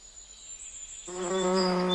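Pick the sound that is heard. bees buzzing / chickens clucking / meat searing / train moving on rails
bees buzzing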